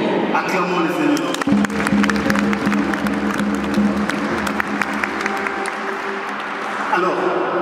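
Church congregation applauding during a Mass, a steady wash of many hands clapping close and loud for several seconds, with voices over it.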